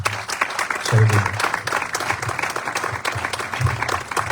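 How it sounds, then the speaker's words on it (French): A church congregation at an inauguration service applauding: dense, steady clapping from a large crowd filling the room, with voices and cheers mixed in throughout. "On acclame Jésus."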